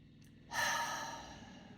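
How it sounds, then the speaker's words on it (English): A single deep cleansing breath, drawn in and released as a long audible sigh close to the microphone, alone in a quiet room. "take a deep cleansing breath"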